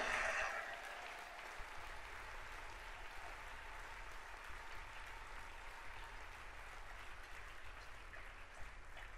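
Church congregation applauding at a French-language prayer service, a loud burst of clapping at the start that eases into steady, diffuse applause from a large crowd.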